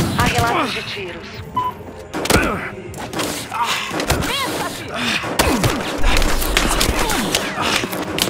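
Rapid gunfire bursts and thuds in the police shooter video game Battlefield Hardline, with repeated shots crackling across the whole stretch while voices shout and talk over the action.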